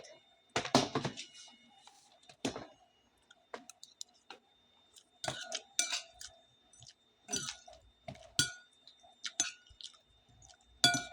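Someone eats stir-fried bottle gourd with sardines at home, with close wet chewing, lip smacks and utensil clicks coming in irregular bursts with quiet gaps between.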